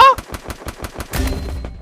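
Rapid gunfire bursts from Free Fire, a fast, evenly spaced string of loud close shots followed by a denser, rumbling volley.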